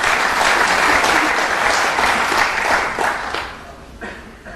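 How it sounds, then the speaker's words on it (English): Snooker audience applause at a 2011 Premier League match, a full, loud burst of clapping that holds steady for several seconds before thinning and tapering off toward the end. "I thought the applause there was a little bit premature."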